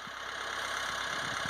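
A Mahindra 2638 tractor with a snowblower fitted idles steadily in a blizzard cleanup. The engine drones as one constant mechanical hum, with faint low thumps.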